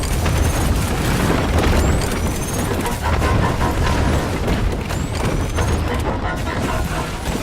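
Sticky bombs going off in a video game, loud booming blasts and crackling debris packed densely together in a continuous barrage, with a voice speaking over the din.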